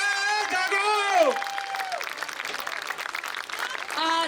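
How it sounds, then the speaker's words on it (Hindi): Applause and cheering from a crowd at an animal welfare public gathering at Jantar Mantar, a dense clapping texture sustained throughout, with a voice speaking loudly over it at the start and end. "जोश दिखाओ, जोर से तालियां बजाओ भाई"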